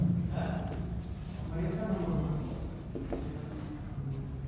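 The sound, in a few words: writing on the board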